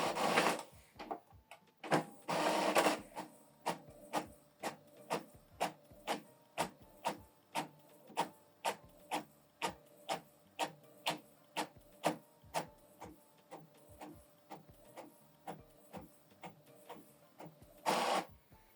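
An Epson ET-3950 inkjet printer prints a document, its print head shuttling in a steady rhythm of sharp mechanical clicks and whirs, with louder feed-motor bursts at the start and finish; close and clear, no talking.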